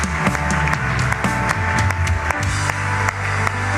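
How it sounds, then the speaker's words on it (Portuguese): Church congregation clapping during a worship service, rhythmic claps under loud music with a bass line and sustained tones, energetic and continuous. "Aplauda esse Deus, Ele merece."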